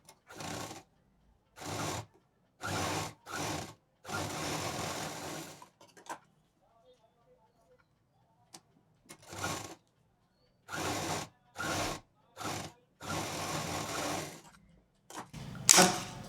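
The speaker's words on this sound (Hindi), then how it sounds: "अब इसको डबल मशीन के साथ, ऊपर भी डबल मशीन, नीचे भी डबल मशीन और सिल देते हैं" A sewing machine stitches a patchwork shoulder bag in repeated bursts of rapid whirring, separated by quiet pauses, close and clear.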